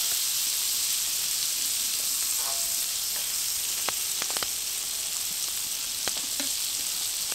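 Butter sizzles in a pan over a camp fire, a constant bright hiss filling the whole stretch, close and even, with a few sharp clicks of a utensil near the middle and end; no one speaks.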